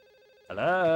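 A telephone rings in the Silent Hill 4 video game, a steady electronic trill heard faintly before a voice breaks in over it.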